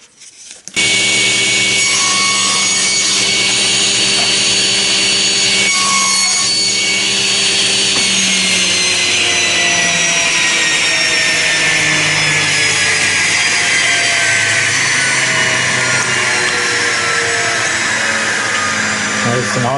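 A saw cuts wood pieces on a wedgie sled set to 2.9 degrees, a loud, sustained whine that drops slowly in pitch as the blade bites through, continuous from start to finish.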